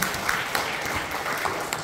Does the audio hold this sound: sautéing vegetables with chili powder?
no